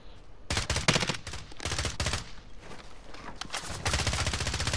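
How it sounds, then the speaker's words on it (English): Rapid bursts of automatic gunfire in Call of Duty Modern Warfare Warzone, several loud rattling volleys separated by short pauses, with a sustained stream of shots near the end. "No, he's shooting at me from where I just marked."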